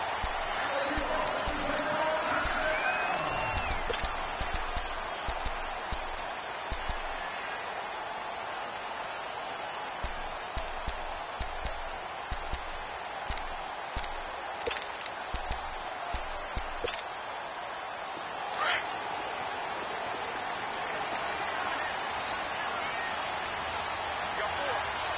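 A dense stadium crowd roars as a steady wash of noise at a Seattle Seahawks versus Cleveland Browns NFL game, running under continuous play-by-play commentary.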